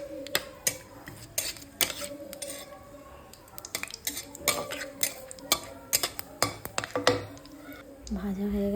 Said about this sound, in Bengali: ঘিয়ের সাথে ভালো করে ভেজে নিচ্ছি